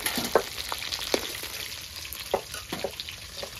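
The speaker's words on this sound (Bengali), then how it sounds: "কড়া কড়া করে দেশি ভেটকি ভাজা হয়ে গেছে" Continuous frying sizzle of Bhetki (barramundi) pieces frying crisp in hot oil, with scattered pops and crackles, fairly close and steady throughout, at a night picnic in a village.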